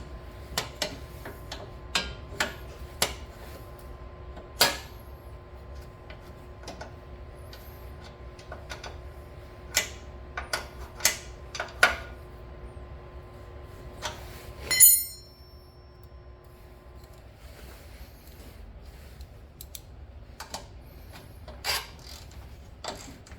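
A ratchet tightens a John Deere chain tensioner, giving sparse, quiet clicks in irregular bursts over a faint background hum, with one sharper metallic clack midway.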